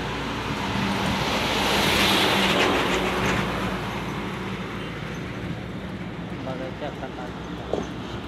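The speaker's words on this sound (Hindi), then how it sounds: "देखिए कितना रफ्तार में आ रहा है पानी पूरा।" Fast-flowing floodwater surges past a bridge pillar near Gorakhpur, a loud continuous rushing roar that swells briefly early on, with someone speaking over it.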